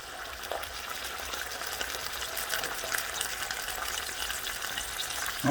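Onions sizzle and crackle steadily in a pot as the first step of a Cajun smoked ponce (chaudin), a constant close hiss with small pops and occasional stirring, no voices.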